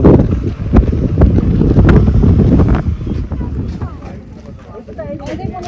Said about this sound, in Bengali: প্রচন্ড হাওয়া চলছে, ধুলো।